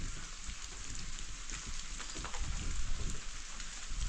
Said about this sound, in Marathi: पाऊस चालू आहे आता, पाऊस तर गरजेचंच आहे आपल्याला.